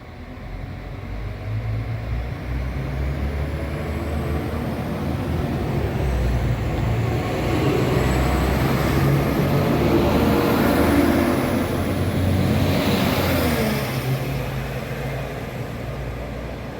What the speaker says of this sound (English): This is 195101 and should be shortly ready to depart here at Crossgates.